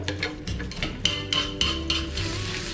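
Pounded shallot, garlic and shrimp paste stir-fried in a little oil over low heat for Thai chili paste with minced pork, with steady soft sizzling and a few sharp clinks of a utensil against the pan.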